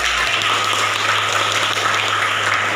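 Classroom of pupils applauding at a teacher's request during a lesson, a steady, dense wash of clapping that holds evenly from start to finish with no break.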